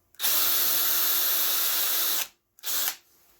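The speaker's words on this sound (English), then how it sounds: "I want to drill a hole right there in the center." A power drill fitted with a 5/32 bit bores a hole in the center of a broken phone holder, whirring loudly and steadily for about two seconds, then giving one brief final burst.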